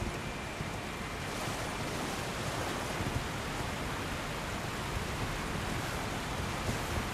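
A rushing waterfall in the video game Elden Ring, a dense, steady broadband roar of falling water that fills the scene evenly without break.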